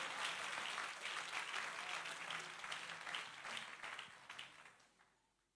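A church congregation applauding, a dense wash of many hands clapping, moderately distant and steady, then fading away toward the end.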